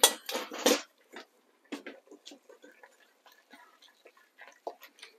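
A utensil stirs a carrot casserole with mushrooms in a pot, giving a few loud scraping clanks at first, then lighter intermittent clinks and taps against the pot in a quiet kitchen.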